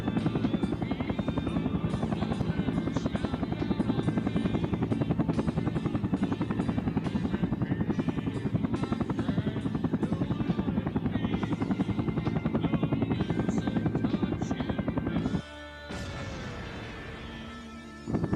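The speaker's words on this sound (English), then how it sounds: "I almost just tried to use the Arma 2 controls to lower the helicopter." Helicopter flying in the video game Air Conflicts: Vietnam, a loud steady rotor buzz and engine whine continuing for a long stretch before briefly dropping out near the end.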